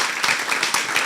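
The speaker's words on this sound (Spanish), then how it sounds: "Le damos un fuerte aplauso." An audience at a university seminar on cultural heritage and digital technologies gives the speaker a brief, steady round of applause, with many hands clapping fairly close and no voices over it.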